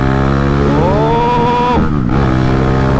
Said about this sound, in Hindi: बाइक का साउंड देखो यार